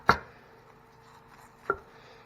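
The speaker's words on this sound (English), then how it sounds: "we're just going to shave some lettuce here" Two sharp, quiet knife strokes shave lettuce on a cutting board at home, spaced about a second and a half apart in a hushed kitchen.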